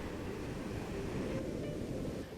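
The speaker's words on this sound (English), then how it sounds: "Jetting off into the ocean are rock arches getting slammed with waves from the Pacific." Pacific waves crash against rock arches off Wharariki Beach, a faint, continuous wash of surf with a broad roar and no distinct breaks.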